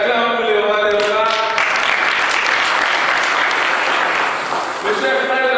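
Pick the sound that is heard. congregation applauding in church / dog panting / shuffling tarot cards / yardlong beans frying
congregation applauding in church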